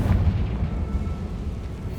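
Confringo blasting spell erupting in Hogwarts Legacy inside a tomb: a loud, deep rumbling explosion with a heavy low boom that rolls on steadily for the whole two seconds, alone with no talk.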